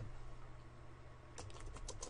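Typing on a computer keyboard while writing code, a short burst of quick, quiet key clicks arriving after a stretch of near silence with faint background hiss.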